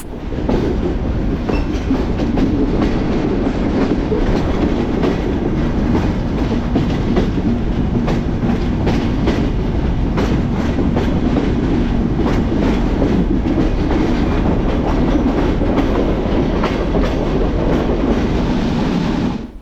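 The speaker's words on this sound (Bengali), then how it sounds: "যতই ঢাকার দিকে এগোচ্ছি ততই যেন আমাদের রেলের স্পিড বেড়ে শতকের দিকে চলছে" The Banalata Express runs from Rajshahi toward Dhaka at speed, with a loud, steady rumble and clattering wheels on the rails heard continuously from inside the train, with no voices.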